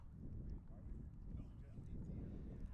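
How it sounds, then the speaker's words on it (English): Wind gusts buffet the microphone at an outdoor high school baseball scrimmage in Independence on a chilly evening, a steady low rumble filling the whole clip. "A very windy Tuesday evening here in Independence."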